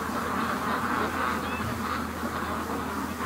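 Free-range ducks gathered on an icy lake, their honks and quacks blending into a steady, busy chorus against a constant outdoor wash of noise, with no clear single calls standing out.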